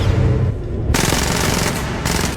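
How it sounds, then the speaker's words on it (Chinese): Rapid bursts of film gunfire crackle loudly and continuously, a dense volley of shots with a brief lull before firing resumes, as guards are shot aboard a high-speed train. "V 趁机开枪干掉守卫"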